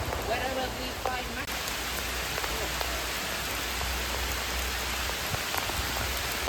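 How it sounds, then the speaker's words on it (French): Heavy rain pours in the Vietnamese jungle, a dense steady hiss of drops hitting leaves and surfaces that stays loud and unbroken throughout. "Regardez comment il pleut, c'est incroyable."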